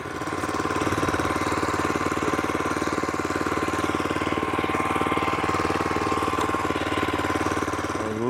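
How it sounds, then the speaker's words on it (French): Fairway mower engine running steadily while rolling an aerated lawn before top dressing, a loud, even, rapidly knocking motor drone close by for the whole stretch, with no talking. "Je vais prendre ma tondeuse à fairway pour bien le rouler avant de le top dresser pour pas que ça arrache des mottes de gazon."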